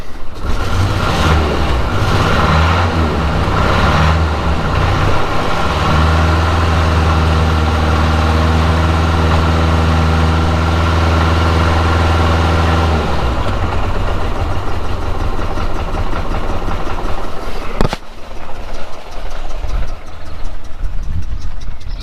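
Morris Minor car engine idling with the choke fully in, a loud steady close rumble with a low droning hum that shifts pitch partway through, then a sharp knock and continued running, no talk.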